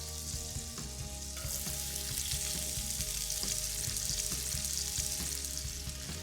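Two sliced white onions fry in a tablespoon of butter in a pan, giving a steady, close crackling sizzle with occasional stirring clicks and a low continuous hum beneath.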